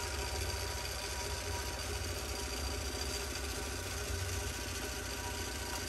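A longarm quilting machine runs steadily while stitching couched yarn onto a quilt, giving a continuous, even motor hum with a fine rapid needle pulse and no talk.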